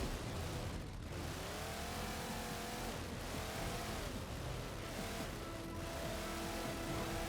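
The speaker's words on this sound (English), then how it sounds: "So I'm going to try some sort of standard Warthog combat driving" A Warthog vehicle from Halo 4 drives in combat, its engine droning and revving steadily with shifting pitch and a few surges, loud and continuous without talk.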